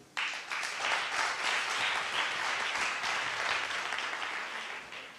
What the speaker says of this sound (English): they deserve a due applause once again